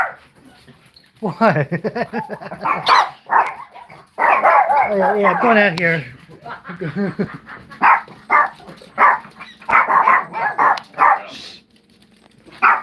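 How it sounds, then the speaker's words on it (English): Several dogs bark and yip in sharp bursts close by, mixed with whimpers, while people talk and react loudly over and between the barks. "You even got the dogs barking."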